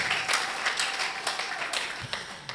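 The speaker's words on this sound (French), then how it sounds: "Acclamez pour la gloire de notre Dieu, de notre Seigneur." A church congregation applauds together, a dense, steady wash of clapping filling the room at moderate level with a few sharper claps standing out.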